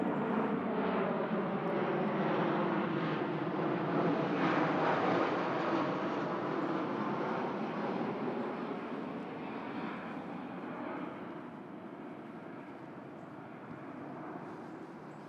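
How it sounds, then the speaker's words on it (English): A broad, steady engine roar from an airplane passing overhead, loud and sustained, slowly fading as it moves away. "let this airplane go by."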